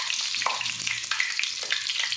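Whole spices such as bay leaf, star anise, cinnamon, black peppercorns, cloves, fennel and cumin frying in hot oil in a karahi, a close, steady crackle and sizzle with small pops throughout.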